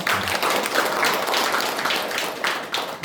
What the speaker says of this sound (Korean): 박수 한번 드리죠.